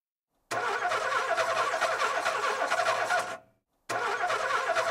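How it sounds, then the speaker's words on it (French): Car engine cranking and running in rough bursts as it pulls up and stops in front of a house, loud and close, cutting out briefly before starting again. "une voiture toute crachotante s'arrête devant la maison"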